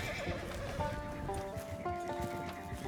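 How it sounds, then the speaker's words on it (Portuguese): Several horses whinny and neigh in Red Dead Online, rising and falling calls layered over a steady ambient game backdrop, with faint hoof clops under them. "Olha, tem um monte de cavalo aqui."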